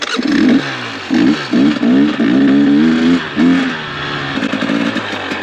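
A KTM 300 two-stroke dirt bike on a long downhill ride, its engine revving in repeated loud bursts that rise and drop with throttle blips, close and raspy, with no talk.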